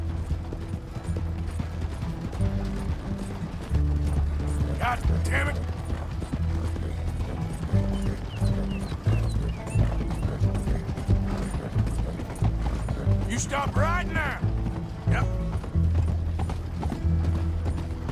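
A horse gallops while pulling a coach in Red Dead Redemption 2, steady rapid hoofbeats with rattling, creaking wheels and harness throughout, and someone shouts angrily over the chase.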